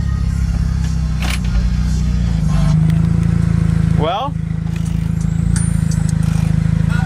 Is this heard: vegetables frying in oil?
no